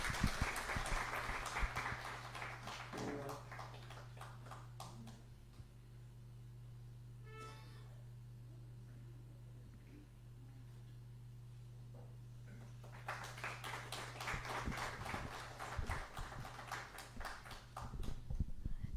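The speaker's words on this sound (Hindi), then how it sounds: "please give a big round of applause" A conference audience applauds in loud bursts of clapping at the start and again near the end, with a quieter stretch of room hum between.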